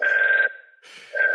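An old-school telephone rings loudly and close by in short electronic warbling bursts, with one burst, a brief pause, and then the next ring starting.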